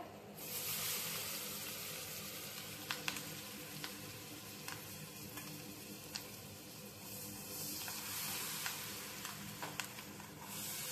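Split green chillies fry in hot oil with a loud, continuous sizzle and scattered sharp crackles and pops, close by and alone.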